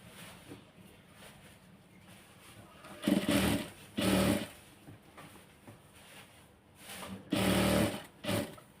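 A sewing machine fires in several short, loud bursts, two close together and then two more a few seconds later, while stitching a pocket onto pajama fabric. A soft background hum fills the gaps and no voice is heard.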